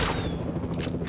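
Tranquilizer dart gunshot from the video game Jurassic World Evolution 2, heard as a loud, dense burst of game sound effects that stays steady and continuous with no pauses.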